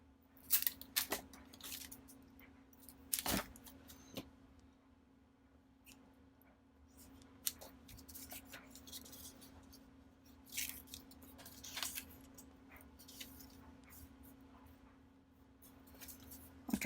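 Scissors snipping planner paper in scattered short cuts, faint and close over a quiet steady hum, with soft rustles and taps between snips.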